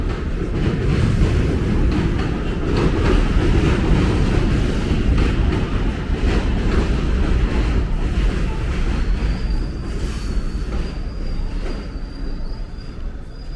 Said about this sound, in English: Sounds like you got a train coming in.